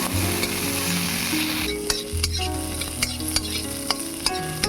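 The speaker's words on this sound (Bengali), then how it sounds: "কাজু কিশমিশগুলোকে হালকা করে ভেজে নেব" Cashews and raisins fry in ghee in a pan, a steady loud sizzle broken by sharp clinks and scraping as a spoon stirs them at irregular intervals.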